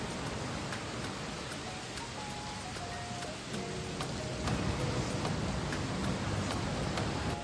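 Rain falling at a remote jungle beach in Brazil, a steady dense patter of drops that grows a little heavier partway through, close and continuous with no voices.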